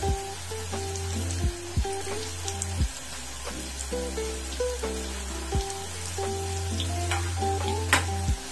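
Vegetable Manchurian balls frying in hot oil in a kadai, a steady crackling sizzle like rain with a low hum beneath and a few soft clunks and taps, no voices.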